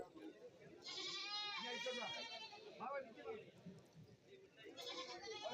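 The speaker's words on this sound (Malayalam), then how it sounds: "വലിയ മുട്ടനാടുകളും ഈ ഭാഗത്ത് നിൽപ്പുണ്ട്" Large male goats at a rainy livestock market in Kerala let out a few wavering bleats, one near the start and another near the end, while someone talks steadily over them.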